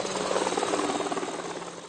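Small ultralight helicopter from a Basque Country company flying close by, a loud steady rotor and engine drone with rhythmic blade chop throughout.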